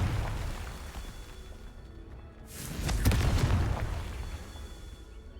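A Confringo blasting spell goes off in Hogwarts Legacy, a deep booming burst near the midpoint that swells into a rumbling, crackling roar and slowly fades over steady background game noise.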